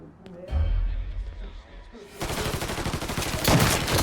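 Gunfire in the Mafia III video game on PS4: a dull thud, then a rapid burst of repeated shots that grows louder near the end, heard alongside someone speaking.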